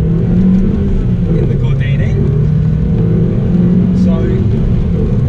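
Renault Sport Twingo Gordini with a naturally aspirated 1.6 engine, a steady engine drone heard from inside on the road under someone speaking.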